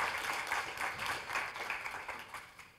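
An audience at a university final presentation event gives a round of applause, faint and fairly distant, a steady patter of many hands clapping that tapers off toward the end.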